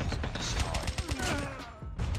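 Sustained automatic gunfire in the Call of Duty Mobile shooter game, rapid overlapping shots forming a dense continuous roar across the whole stretch, loud and close.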